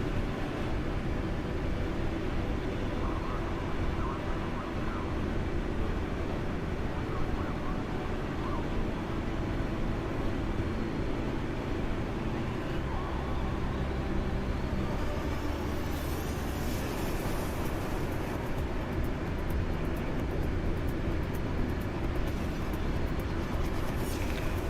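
MiG jet aircraft in a flight simulator game, a steady roaring engine drone that holds at a constant loudness throughout with broadband rumble and hiss, no voices.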